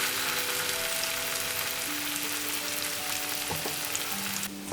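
Khosla bora fritters frying gently in oil over low heat give a steady, dense sizzle with faint crackles, plus a few brief clinks near the end, close and with no speech.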